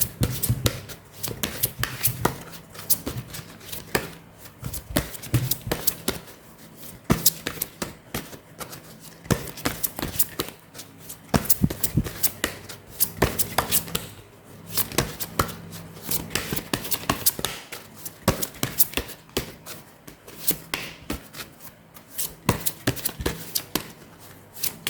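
Tarot cards are shuffled by hand for a reading, a long run of continuous riffling and flicking at a steady, busy pace close to the microphone, with no talk.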